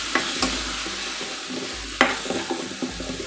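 Potatoes and onion are stirred in a hot pan, the spoon scraping and knocking a handful of times over a constant sizzle, close and fairly loud.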